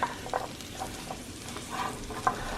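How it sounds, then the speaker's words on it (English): Food sizzles in a pan while being stirred for healthy meal prep, a steady close frying hiss broken by scraping strokes from the utensil, with no talking. "I think I got a nice healthy sizzle here"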